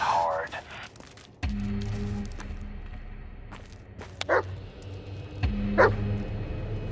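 The dog Bullet in the video game Blair Witch barks two or three times, sharp and fairly close, over a steady low game ambience, with footsteps and a speaking voice in between.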